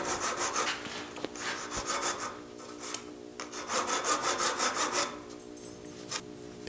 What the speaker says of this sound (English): I'm just sawing off each end with my saw there.